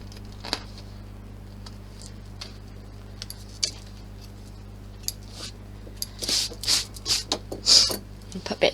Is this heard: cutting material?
yes